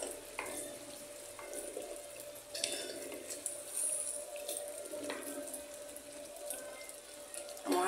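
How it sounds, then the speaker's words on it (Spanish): Pasta stirred into a mushroom and cheese sauce in a pan after a splash of pasta water: soft, wet scraping and gentle sizzling in repeated strokes, quiet and close. "Y vamos a revolver."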